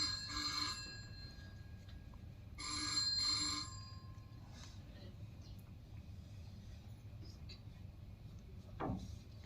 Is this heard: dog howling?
no